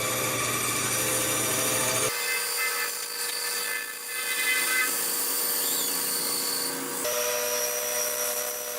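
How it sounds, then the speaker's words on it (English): A bandsaw cuts through a piece of cherry wood with a steady, loud mechanical whine. The tone drops as the blade bites into the board and rises again when the cut clears, with no talking. "So I can go ahead and cut that out on the bandsaw."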